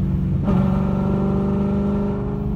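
A Coyote-swapped Ford Fox Body Mustang goes wide open, its V8 note jumping sharply and then holding a loud, steady, rising roar close by, with no voices over it.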